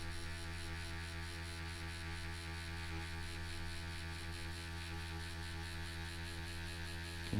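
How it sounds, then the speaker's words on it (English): A Bronc Tough wireless stroke-adjustable tattoo pen set to a 3.5mm stroke runs as a steady, close electric hum and buzz throughout, with only slight dips where the motor bogs under light pressure while packing. "You can hear the machine bog down a little bit."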